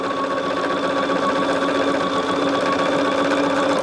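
A sewing machine runs steadily while stitching a scrap quilt block, giving a continuous close whirring hum with a fast even mechanical pulse throughout and no talking.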